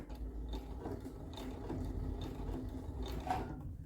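Quiet sewing machine running a backstitch at the end of a seam, a soft rhythmic mechanical whir with light repeated ticks of the needle going back and forth, fairly faint and close, no voices.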